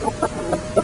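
Hens at a poultry farm give short, repeated clucks, four brief close calls spaced evenly in under a second, with no voices.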